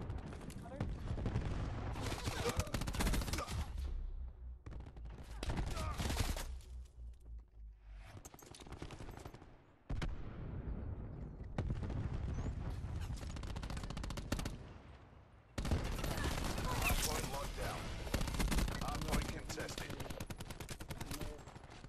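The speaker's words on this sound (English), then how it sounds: "You have to shoot a fucking whole full clip." Rapid automatic rifle fire and bursts of gunshots from a Call of Duty match, loud and close, coming in long sustained volleys separated by short pauses, with game effects and faint voices mixed underneath.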